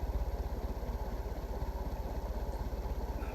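A 56-inch Westinghouse sidewinder antique ceiling fan spinning fast, a steady rapid rhythmic thumping whir over a constant hum, close and continuous.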